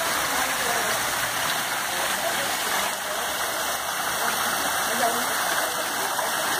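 Five artificial waterfalls in a church grotto pour steadily, a dense continuous rush of falling water close by, with faint talk underneath.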